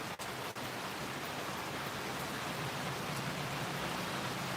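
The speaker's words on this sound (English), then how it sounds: "If you can see the rain, it's really teeming down." A torrential downpour during a thunderstorm, a continuous, loud roar of heavy rain with a couple of brief dips at the start, with no voices.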